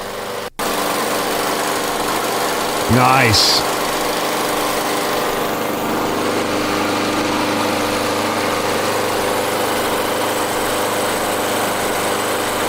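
A running MTD gas lawnmower engine, a steady, loud close drone that holds throughout, with a brief rising whine partway through and a single short spoken word near the start.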